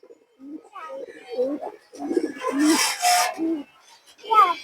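Khoragola pigeon cooing in a series of low, throaty, rolling coos, close and fairly loud, with a short pause and a final burst of calls near the end.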